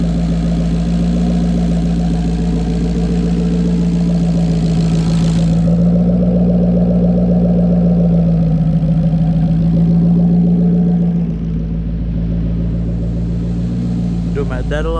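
A Ford Mustang S550 fitted with an On3 single turbo engine idles steadily on its first start-up, a loud, close, even rumble running throughout while people talk over it.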